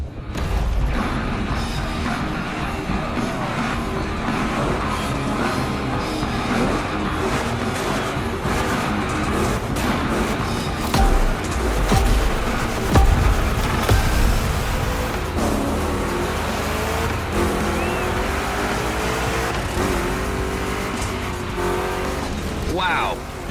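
Chevy big block V8 engines in The Crew Motorfest gymkhana roar loud and steady throughout, with tire squeal and rough mechanical clatter, under continuous commentary talk.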